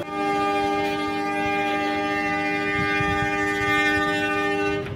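A Merak local train arriving at Tanjung Baru station, heard as a steady loud rumble with sustained tonal hum of the locomotive and wagons throughout, no talk.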